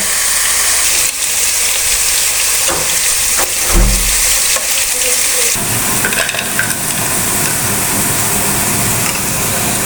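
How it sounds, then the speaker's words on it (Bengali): Chicken pieces and mushrooms fry in hot oil for rolls, a steady loud sizzle with stirring clatter and a few utensil knocks throughout, no voices. "এখানে রোলের জন্য চিকেন ভেজে নিচ্ছি আর এখানে করছি মাশরুম ফ্রাই"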